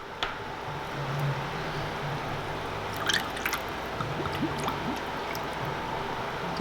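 Worcestershire sauce shaken and splashed a little at a time onto pork ribs packed tightly in a pan, giving soft drips and squishy splashes over a steady low room hum, with no talk.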